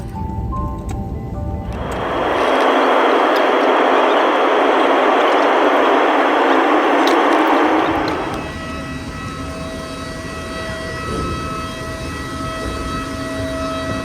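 A loud, steady airplane roar swells in for about six seconds, then drops back to a lower, constant hum.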